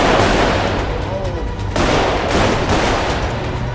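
Loud, dense gunfire in GTA 5 role-play, a rapid burst of overlapping shots filling the clip, with voices faintly mixed in.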